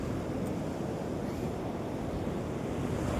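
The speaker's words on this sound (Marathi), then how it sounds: "बघा हे किती छान लाटा" Sea waves washing onto a beach, a steady broad rush of surf with wind noise buffeting the microphone, continuous and fairly loud with no voices.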